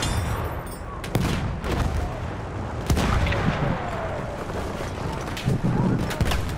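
Video game battle with a tank and gunfire, dense rumbling explosions and sharp shots cracking over a constant heavy din, with an excited voice talking over it.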